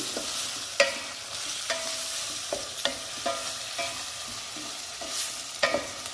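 Onions, green chillies and tomatoes fry in hot oil, a steady sizzle throughout with a spatula scraping and stirring the pan in irregular clicks, close and fairly loud with no talking.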